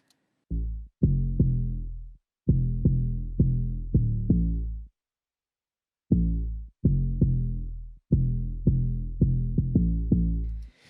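Deep, muffled 808 bass notes play in short rhythmic phrases with pauses between, dull and rounded with the highs rolled off by an EQ filter in Nuendo or Cubase, and nothing else heard.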